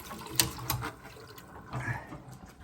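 Water runs from a tap while a leaky pipe behind a wall is checked, a soft hissing flow with a few clicks and knocks, fairly quiet and close with no talking.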